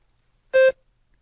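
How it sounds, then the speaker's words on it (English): A single clean electronic beep, about a fifth of a second long, loud and steady, with silence before and after. "Begin speaking after the beep."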